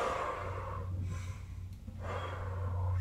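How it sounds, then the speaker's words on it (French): During an upper-body exercise, a person breathes close to the mic: a long audible inhale, a short pause, then another breath, over a low steady hum. "On inspire et on expire."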